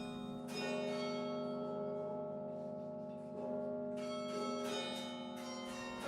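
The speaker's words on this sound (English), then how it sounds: "So next time you hear bells in the sky, don't take them for granted." Tuned bells ring out in a steady melodic sequence, overlapping tones sustaining and blending, resonant and somewhat distant like a tower carillon.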